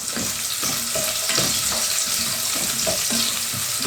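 Onions sizzle steadily in a hot pan, a close, constant frying crackle with small stirring clatters and no talking.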